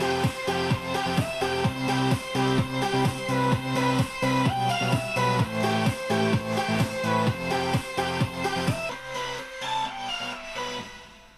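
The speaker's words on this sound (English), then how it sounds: "let's test the sound quality as loud as possible to see how well it sounds." Cheap Kmart gaming speakers pushed to maximum volume, playing loud dense music with steady thumping beats and bright tones throughout before fading near the end.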